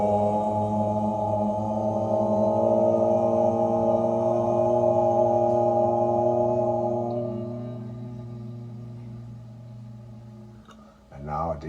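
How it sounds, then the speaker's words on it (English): Group of meditators chanting a long sustained Om together, a rich steady drone of many voices held for several seconds before fading out, ending with a brief breath. "This is one of the more peaceful sounds that you'll ever experience."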